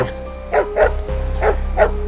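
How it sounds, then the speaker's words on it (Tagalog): A dog barks in a forest: four sharp, fairly loud barks in a quick irregular rhythm over a low steady hum. "hanggang sa marinig nila ang isang patuloy na pagtahol"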